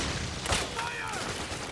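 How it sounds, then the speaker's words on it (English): Gunfire in Metal Gear Solid 4 comes as a dense, continuous wash of distant shots with one sharper crack, the whole thing noisy and unbroken. "I don't know if I'm actually legitimately being shot at here"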